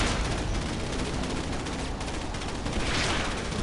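Gunfire from units in the real-time strategy game Command & Conquer 3: Kane's Wrath: dense, continuous rattling bursts fill the whole stretch at steady loudness with no pauses, with no voices.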